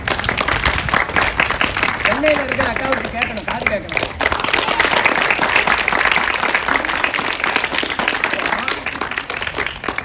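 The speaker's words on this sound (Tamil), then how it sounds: "அவங்களுக்கு ஒரு கைதட்டு கொடுத்துடலாமா?" Children clap for a story writer in a gathering, a dense sustained burst of applause close by, with people talking over and through it.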